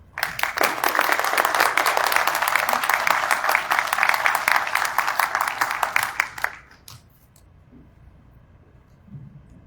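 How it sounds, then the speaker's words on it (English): An audience at an evening candlelight ceremony applauds as the mayor is welcomed, dense steady clapping lasting about six seconds and then dying away into quiet room tone. "Please welcome Mayor Wu"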